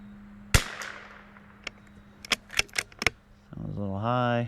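Several sharp reports from a Vudoo V22 .22LR precision rifle at an outdoor range: one crisp crack, then a cluster of quick, irregular shots that fade out before a voice begins speaking.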